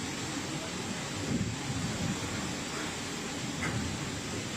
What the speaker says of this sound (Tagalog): Tuloy-tuloy ang hangin at malakas na ulan.